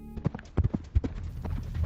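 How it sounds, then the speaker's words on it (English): Heavy galloping hooves of an animal racing toward a cattle guard on a rural track, a quick run of loud, close thuds and clops under a steady background rumble. "Turns out that heavy galloping was just Charlie trying to race by Mom and beat her to the cattle guard"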